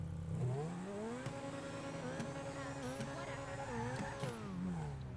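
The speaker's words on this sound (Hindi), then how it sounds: "भाई मैं ऐसे पटाखे फोड़ रहा हूँ इस गाड़ी के" A supercar engine in the GTA 5 video game revs continuously and loud, its pitch rising and falling. Sharp pops from backfiring cut in at intervals.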